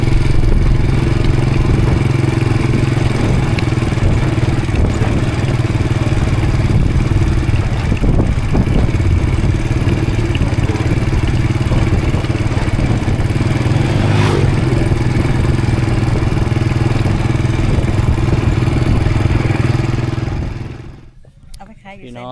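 A motorcycle ride on a village road carries a steady engine drone and road rumble throughout, with occasional rattles, before the sound cuts off at the end.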